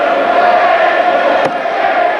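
Crowd at a 1985 England versus the World darts final roars and cheers to lift Bristow, a broad sustained wash of voices with a brief sharp shout near the end.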